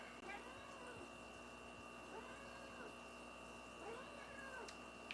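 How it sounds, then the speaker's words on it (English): A house cat meows repeatedly at someone early in the morning, its drawn-out calls rising and falling over a steady background hum of a pond pump. "This cat is back to meowing at me."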